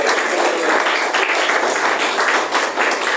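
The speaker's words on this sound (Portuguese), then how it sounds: "As palmas louvam ao Senhor." A church congregation breaks into sustained applause in praise of the Lord, a dense, even wash of many hands clapping steadily throughout.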